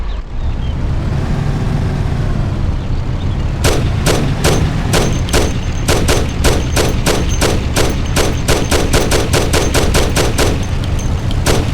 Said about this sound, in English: Take my Thompson. You and Sam shoot them.